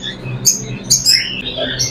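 Fancy and imported birds in a bird shop in Rashadabad, Multan chirp and squeak in quick overlapping bursts, sharp high calls close by over a low background hum.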